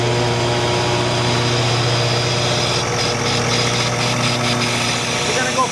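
Amtex Inferno 3047 blower runs steadily during lubrication, a loud continuous mechanical drone with a strong low hum and constant vibration, unchanging throughout.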